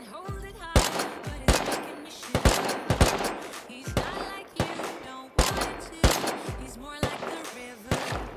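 Rapid gunfire in the survival game Rust, repeated sharp bursts of shots in clusters with short pauses, loud and close, with brief voices between volleys.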